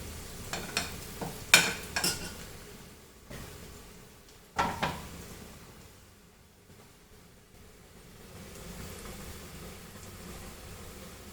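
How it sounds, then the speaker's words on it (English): Onions frying in a pan for egg xacuti curry, stirred with a utensil: a run of sharp scrapes and clatters in the first five seconds, then a quieter, steady low sizzle, with no voices. "So here is my onions nicely fried"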